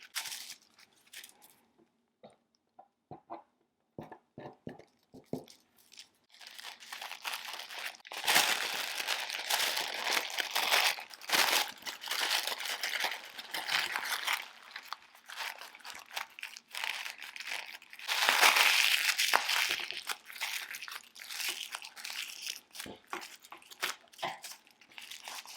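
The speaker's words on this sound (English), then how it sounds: "Then I glued green tissue paper and added that where the fringes were." Green tissue paper crinkling and rustling while a paper poinsettia is being crafted: sparse soft crackles at first, then dense continuous crumpling close up, with no talking.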